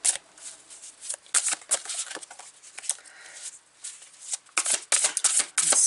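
Tarot cards are shuffled by hand in bursts of crisp riffling and papery slapping, close and soft, with short pauses between runs and no talking.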